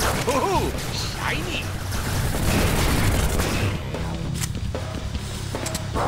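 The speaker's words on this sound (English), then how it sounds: "I'm shooting a lot" Rapid player gunfire in the Deadpool video game rattles through dense action sound, many quick shots in a row, loud and busy under a speaking voice.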